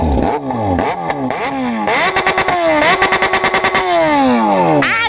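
A Yamaha XJ6 four-cylinder motorcycle engine revs hard several times, climbing and falling, then a rapid burst of blips before a long rising rev, loud and close.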